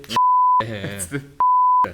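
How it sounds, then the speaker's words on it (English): Two loud, flat censor beeps, each about half a second long, separated by a burst of talking. "I'm going to beep all of that."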